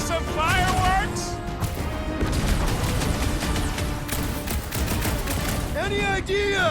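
Rapid gunfire and impacts rattle through a battle in Marvel's Guardians of the Galaxy video game, dense and loud throughout, with characters shouting over the barrage.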